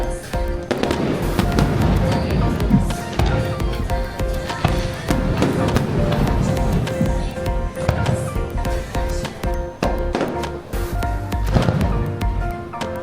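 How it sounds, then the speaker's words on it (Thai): Fireworks burst over a beach resort in a dense, unbroken barrage, with loud cracks and booming reports following one another for the whole stretch and only a faint trace of voices in the background. "ก็มีพลุให้ดูนะครับ"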